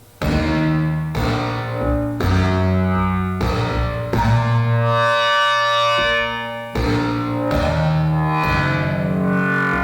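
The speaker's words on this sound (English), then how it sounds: "In the Plate reverb algorithm, you hear a lot of the pre-delay." Sustained chords from a Yamaha TG77/SY77 synthesizer patch change every second or so, each swelling with a bright metallic plate reverb tail with audible pre-delay that lingers between changes.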